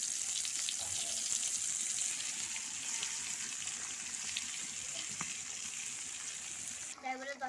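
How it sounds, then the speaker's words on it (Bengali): Eggplant fries in a pan with a steady, close hiss and crackle that holds evenly, then a brief clatter and a voice come in near the end. "এই যে এখন আমি বেগুন ভাজি করবো।"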